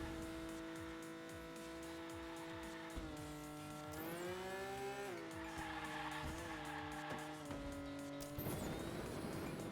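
Toy cars race in the Hot Wheels Unleashed video game, engines whining and shifting pitch continuously with tire squeals and boost effects, loud and sustained throughout.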